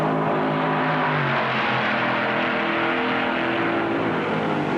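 Stock cars roar off at the start of the 1957 Southern 500 dirt-track race, a dense continuous engine drone with shifting revving tones from the pack, loud and sustained.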